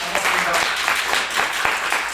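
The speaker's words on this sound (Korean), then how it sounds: "다 같이 박수를 한번 치면서 시작해볼까요?" A lecture audience claps together in a lively burst of applause, fairly close, with a voice faintly mixed in.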